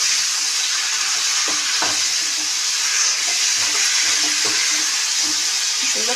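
Green chilies hiss and sizzle steadily in hot oil in a frying pan, a loud continuous crackle with a few soft stirring knocks underneath.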